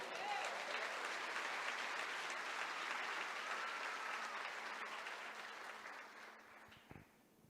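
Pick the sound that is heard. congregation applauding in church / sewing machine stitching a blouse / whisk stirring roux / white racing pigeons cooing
congregation applauding in church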